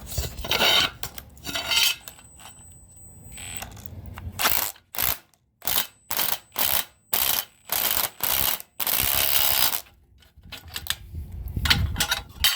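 A ratcheting tool with a right angle attachment and socket tightens exterior handrail bolts in a run of short, rhythmic mechanical bursts with metallic clicks and brief pauses, close up.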